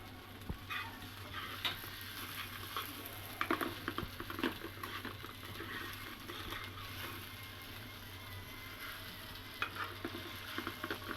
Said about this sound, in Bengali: এই যে দেখো আলুটা খুব সুন্দর ভাজা হচ্ছে